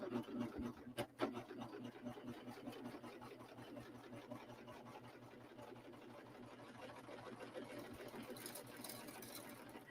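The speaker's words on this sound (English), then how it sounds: "So there, I serged along the fold." Serger stitching along a fabric fold for beading, running at a slow, steady pace with a continuous mechanical whirr and rapid rhythmic needle chatter, fairly faint and close, with brief handling noises near the start.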